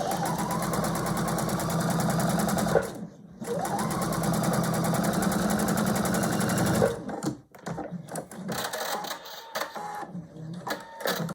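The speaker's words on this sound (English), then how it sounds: "I'm going to take this over to the machine again, and this time I'm on the other side, and sewing with my 1/4 inch" A home sewing machine runs in two long, steady bursts as a quarter-inch seam is stitched on a big star quilt block, with a brief pause between, then stops into quieter handling noises near the end.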